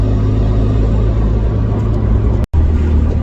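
A Renault Megane RS250 hybrid track build pulls hard on an open road, its engine a loud, close, droning rumble that holds steady, broken by one brief dropout near the end.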